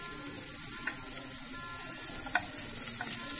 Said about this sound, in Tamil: இந்த மாதிரி நல்லா வதக்கிக்கோங்க.